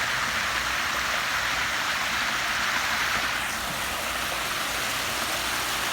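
Water runs down a wide spillway into a pondless backyard waterfall in a constant hiss and rush, close and unbroken throughout, with no voices.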